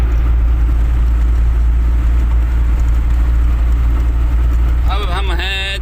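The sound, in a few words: car being driven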